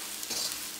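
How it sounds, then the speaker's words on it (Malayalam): Freshly ground coriander powder fries in oil over a medium flame, giving a soft, even sizzle with a brief stir near the middle, quiet and without talk. "അപ്പോൾ മല്ലിപ്പൊടിയും എണ്ണയിൽ കിടന്ന് നന്നായിട്ട് മൊരിഞ്ഞിട്ടുണ്ട്"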